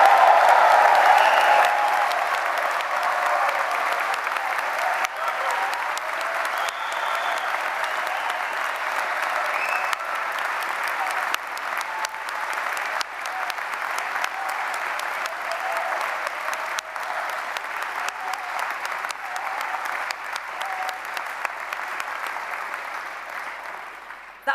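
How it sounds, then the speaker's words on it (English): A large crowd at a graduation ceremony breaks into sustained applause and cheering for the new graduates, loud and dense at first and then settling into steady clapping that continues for about twenty-five seconds. "join me in a big round of applause and cheer for our new"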